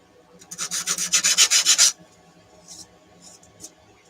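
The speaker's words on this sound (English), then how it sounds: "Might just give this a bit of a rub down as well, just to sort of flatten it off a little bit" A model part is rubbed down by hand to flatten it, giving about a dozen quick, rhythmic rasping strokes close by, followed by a few faint scrapes.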